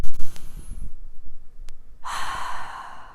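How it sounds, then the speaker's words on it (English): One person takes a deep breath, with a few close, soft breathy sounds followed by a long, airy exhale that fades out. "Take a deep breath."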